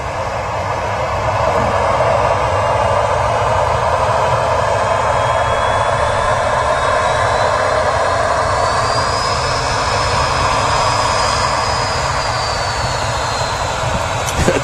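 Aircraft arriving at Manchester Airport, a loud sustained jet roar that stays strong throughout with a rising high engine whine partway through, heard outdoors at close range with no speech.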